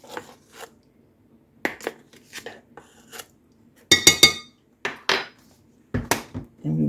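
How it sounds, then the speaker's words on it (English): Metal whisk clinking against a bowl while dry cocoa powder and baking soda are mixed for a homemade chocolate cake, coming in short irregular bursts of scraping and tapping with quiet gaps between them. "And we'll just whisk this together really well."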